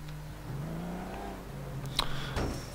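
A car engine in the video game APB Reloaded revs and accelerates, a steady mid-pitched drone that shifts in pitch, with a sharp click and a brief whoosh near the end.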